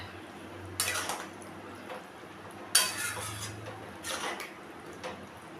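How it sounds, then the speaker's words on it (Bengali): Boiled chickpeas stirred into fried spices in a pan for ghugni, heard as a few close scraping, clinking bursts of spoon against metal with soft sizzling between them. "সেই সেদ্ধ ছোলাটা দিয়ে দিই, দিয়ে আমি ভালো করে এখন মিশিয়ে নেব"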